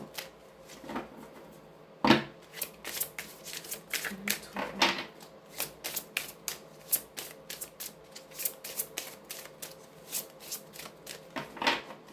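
Lenormand cards are handled, shuffled and laid out on a table, giving repeated crisp flicks and soft slaps in an irregular rhythm, close and clear with no talking.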